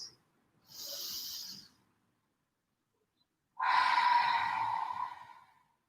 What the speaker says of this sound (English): a big inhale through the nose and exhale through the mouth